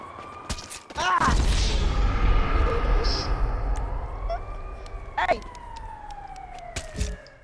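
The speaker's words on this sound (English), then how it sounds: "Oh, there's an ambulance coming." An ambulance siren in the video game Black Ops 4 wails up and down over a dense rumble of engine and game noise, loud and close, with sharp bursts of other sounds breaking through.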